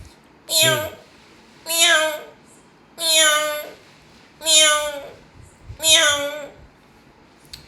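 A voice mimics a cat with five short, rising-and-falling meows at a steady pace, clear and close, separated by brief quiet gaps.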